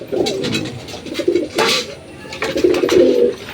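Pigeons coo in a pigeon house, a steady run of low, throaty calls rising and falling in close, loud bursts, with faint rustling and no talk.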